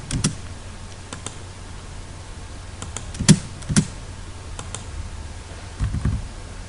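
Scattered keystrokes on a computer keyboard during AutoCAD drafting give sparse, quiet clicks with a couple of sharper taps near the middle and over a faint steady background hum.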